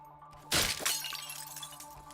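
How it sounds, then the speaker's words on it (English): Glass objects shatter and break in the video game CyberCorp, a sudden loud crash followed by a second burst and a scattering tail of tinkling debris. "Things shattering and just generally breaking."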